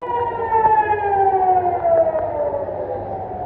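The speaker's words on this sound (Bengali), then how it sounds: "এই দেখুন সাইরেন বাজছে।" A loud siren wails steadily, its tone sliding slowly downward while other pitches layer over it, with no voices.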